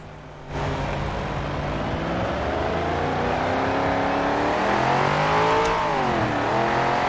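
Car engine in Forza Horizon 4 droning steadily as it drives forward, pitch rising and sweeping with acceleration and gear changes, loud and continuous throughout after a quiet start.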